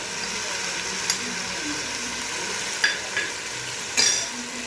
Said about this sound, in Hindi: अब हम इसे अच्छे से हिलाएंगे। थोड़ा सा 1 मिनट के लिए इसे भूनेंगे ताकि हमारे सारे मसाले अच्छी तरह मिक्स हो जाएं।